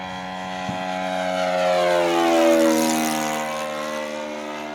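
Model Great Planes Sport Corsair, a vintage semi-scale F4U Corsair with an O.S. 61 four-stroke engine, makes a flyby with a steady buzzing drone that swells as it passes close and then fades away.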